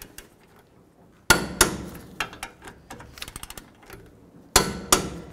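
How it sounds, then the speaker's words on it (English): A torque wrench tightens the rear caliper bolts on a 2003-2007 Chevy Silverado to 148 foot-pounds: close, sharp metallic clicks and clanks in pairs, with lighter ratcheting ticks between them and no talk. "Let's go ahead and torque these to 148 foot-pounds."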